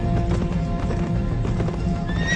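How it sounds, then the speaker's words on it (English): A horse neighs loudly with a rising whinny while hooves clip-clop steadily underneath, close and prominent throughout. "I beheld a black horse"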